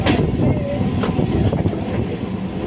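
A passenger train on the Old Delhi to Shamli line rolls toward Baghpat Road station, a loud steady rumble with faint rhythmic wheel clicks and wind buffeting, heard from on board.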